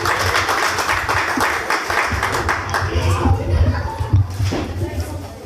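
Audience applause at a ghazal concert: dense, continuous clapping from a crowd, steady and fairly loud throughout, with a low hum underneath.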